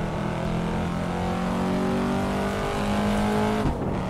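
A Corvette C7 Stingray engine drones in the Assetto Corsa racing game as the car labours up a hill, a loud, continuous note that slowly rises in pitch and then drops sharply near the end with no voices.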